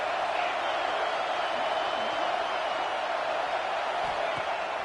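Stadium crowd noise in a college football video game fills the background as a steady, dense roar at moderate level, with no sharp cheers standing out.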